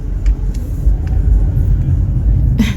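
A car crosses a roundabout at night, giving a steady low rumble of engine and road noise from inside the cabin, with a few faint clicks and a brief brighter sound near the end.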